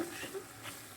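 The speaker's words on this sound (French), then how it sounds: "On mélange." Pasta tossed with garlic scampi in a hot pan gives a brief, steady sizzle with soft stirring scrapes, close by and fairly quiet.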